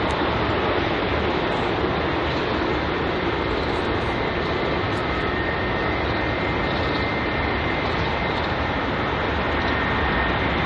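British Airways Airbus A320-200 jet on runway 27 right at London Heathrow, a steady broadband engine roar that holds loud and even for about ten seconds, with no voices.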